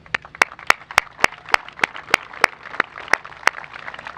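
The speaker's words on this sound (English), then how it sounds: "give them a big round of applause for all the hard work and dedication they put into making this a reality" Claps ring out at an outdoor groundbreaking ceremony for a new soccer stadium, crisp and close, evenly spaced at a steady rhythm with quiet background murmur.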